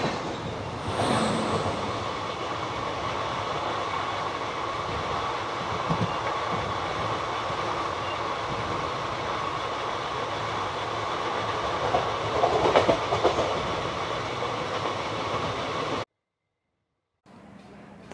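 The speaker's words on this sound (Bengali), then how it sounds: "এবারে সবুজের মাঝখান দিয়ে আমাদের ট্রেনটি ছুটে চলেছে চেন্নাইয়ের পথে" Continuous rumble and clickety-clack of the Santragachi SF Express running through green countryside in Andhra Pradesh toward Chennai, steady from inside the train with a brief squeal, then cutting to silence near the end.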